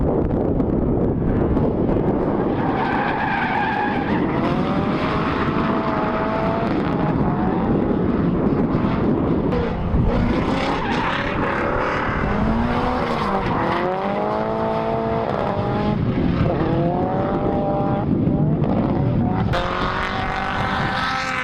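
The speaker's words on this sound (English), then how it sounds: "we're gonna put in some clips right now of doing a few laps with this car at Spokane" A car with a Nissan SR engine laps the Spokane race track, its loud engine repeatedly revving up and dropping through gear changes under heavy wind noise, heard continuously from onboard.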